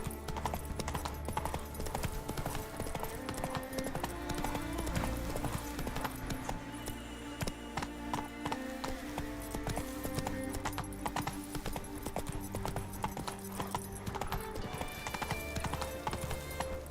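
Hooves of Geralt's horse Roach galloping in The Witcher 3, a fast continuous clip-clop over game music, loud and close throughout with a brief snort or whinny.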